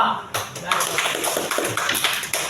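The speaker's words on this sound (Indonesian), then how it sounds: "Tepuk tangan untuk kalian" Students in a classroom clap together after their teacher praises them, a burst of fairly close, slightly uneven claps that runs on steadily, with some voices mixed in.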